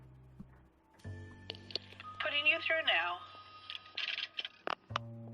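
A telephone is dialed in the video game L.A. Noire, with short electronic tones and clicks near the start and end and a voice talking in the middle.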